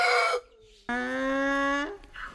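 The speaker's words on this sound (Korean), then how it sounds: "닭들이 참 잘 먹네요." Chickens at a rural farm feeding give one short call and then a single drawn-out, tonal vocalisation, close and clear, with quiet background and no talking.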